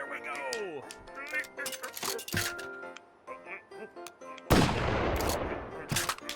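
Shotgun blasts and other gunfire in a turret-testing video game, sharp reports mixed with electronic tones and a long noisy burst near the end, with a voice talking over parts of it.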